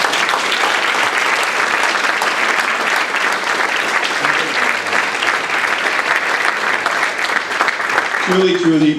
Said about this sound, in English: Let's give Apollo, April, and Cullen another round of applause.